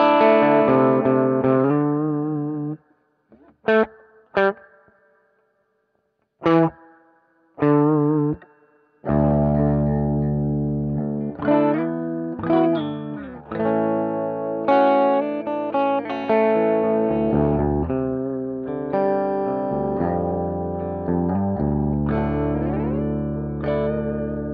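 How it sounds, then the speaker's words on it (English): An electric guitar plays through a Silvertone 1484 amp with the reverb set halfway, giving distorted chords and single notes with stops and swelling tails, close and loud with no talking. "Let's see just how marvelous this shit-ass reverb is. Turn it halfway up."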